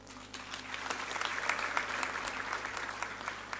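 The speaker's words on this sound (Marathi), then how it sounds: "हे तुमच्या टाळ्या वाजल्या ना," An audience claps steadily through a Marathi talk by actor Ashok Saraf, the applause a dense, sustained patter of many hands filling the hall without a break.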